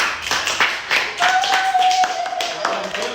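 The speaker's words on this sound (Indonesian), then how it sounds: "tepuk tangan dulu untuk kelompok 2" A classroom of students clapping hands for a group, a short burst of scattered claps mixed with a teacher's voice and a faint tonal whine in the room.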